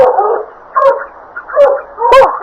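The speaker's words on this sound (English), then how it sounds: "I'll get the dog quiet." A dog in a 1974 radio drama barks and yips loudly in four or five separate bursts, with brief whimpering between them.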